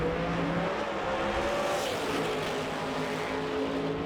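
A 1969 Firebird and a Corvette sit on the starting line at a street-car drag racing final, engines idling in a loud, steady rumble with a faint whine rising and settling, no voices over it.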